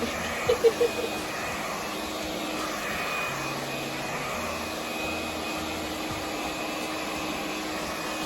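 Hair dryer blow-drying curly hair after an Aztec clay and apple cider vinegar mask in a salon, a steady loud whir running throughout after a few brief knocks at the start.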